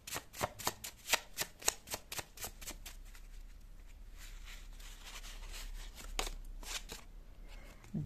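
Tarot cards shuffled close up in a quiet room, a rapid run of sharp riffles and slaps at the start, then softer rubbing, and a couple more flicks near the end.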